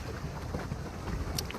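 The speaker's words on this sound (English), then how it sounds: "It's a little bit windy today" Wind buffets the microphone in a low, steady rumble out on the water during a paddleboat outing, with faint splashes and a couple of brief higher hisses late on, and no talking.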